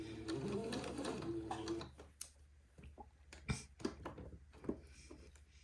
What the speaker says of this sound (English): with a straight stitch, I'm going to proceed to begin to sew this lace panel to the bottom of the dress